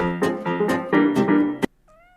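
A house cat meows five times in quick succession, loud and close, each call drawn out and tonal, followed by a softer, fainter meow trailing off at the end.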